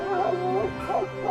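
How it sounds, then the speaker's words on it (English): A guard dog gives a short run of barks and yips, close and fairly loud, over just over a second with no talking. "The dog patrols the perimeter, barking at movement."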